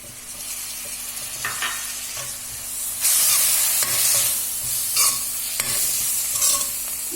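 Tomatoes sizzle and fry in a pan for a chilli chapati dish while a utensil stirs them in repeated scraping strokes, steady and close with no voices.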